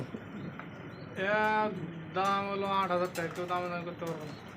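A male and female pigeon pair coo close by, with several soft, drawn-out, throaty calls in a loose sequence, over a quiet background.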